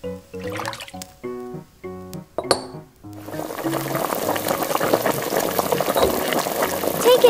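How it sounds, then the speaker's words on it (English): Water bubbles to a boil in a pot for cooking lobster, a steady rolling gurgle that builds over several seconds after a run of clinks and taps from kitchenware. "Now we need to boil it."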